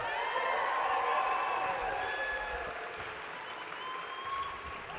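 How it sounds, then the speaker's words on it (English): A college convocation crowd applauds a band steadily, many hands clapping in a dense, even wash, with a few faint cheers mixed in. "Another round of applause for the band"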